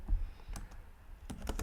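Close, quiet typing on a computer keyboard, with a few separate key clicks followed by a quicker cluster of taps near the end.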